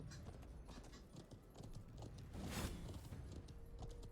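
Horse hooves clip-clop at a steady trotting pace in the video game Conqueror's Blade, faint and quiet under soft ambient game noise, with no talking.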